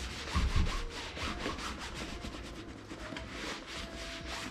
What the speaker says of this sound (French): je prends mon chiffon et je frotte. Et je frotte fort.